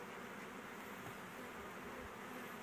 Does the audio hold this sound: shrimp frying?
no